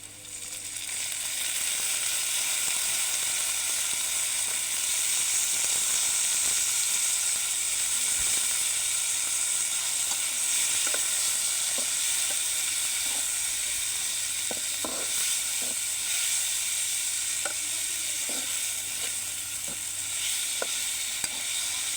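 Onions and tomatoes frying in a pan for a prawn and greens curry, giving a steady, close sizzle with light scattered clicks and scrapes throughout, no talking.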